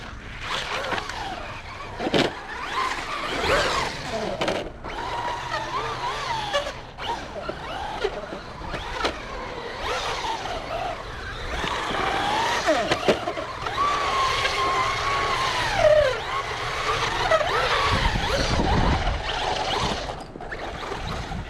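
Traxxas Rustler VXL 4x4 RC truck on aftermarket tires tearing around on dry ground, with continuous motor whine, tire scrabble and skids rising and falling as it moves near and away over about twenty seconds.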